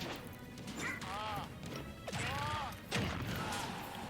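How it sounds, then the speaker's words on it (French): Egg sound effect in a Super Smash Bros match featuring Bowser Jr, Yoshi and Greninja, with sharp cracking hits and chirpy sweeping game tones repeating among busy battle noise, at moderate level. "ce bruit d'œuf il est chiant au bout d'un moment"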